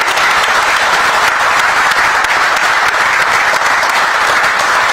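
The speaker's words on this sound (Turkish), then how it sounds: "alkışlarımız yarım kalmasın" Loud, dense audience applause fills the room steadily, many hands clapping at once with no pause.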